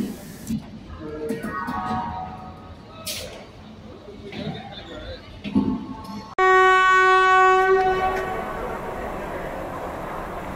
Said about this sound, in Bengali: বালিচক লোকাল বেশ ধীরে ধীরেই প্ল্যাটফর্মে প্রবেশ করছে।